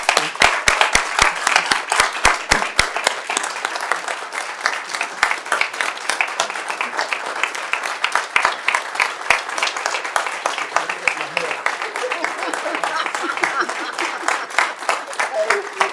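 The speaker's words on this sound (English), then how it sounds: "Let's give her a round of applause, please." A crowd at a board of education meeting applauds with dense, steady clapping that runs the whole time, loud at first and then settling into an even patter.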